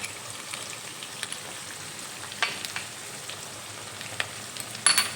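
Garlic, cumin and dry chili paste frying in a pan with potatoes, a soft continuous sizzle with a few sharper crackles and stirring clicks, close and moderate.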